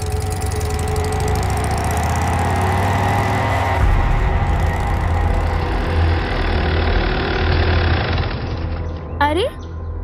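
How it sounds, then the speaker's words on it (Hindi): A motorbike engine runs steadily at idle with a low, continuous rumble, close and fairly loud, then a brief rising whoosh or rev near the end; no clear start-up crank is evident. "बाइक स्टार्ट कर।"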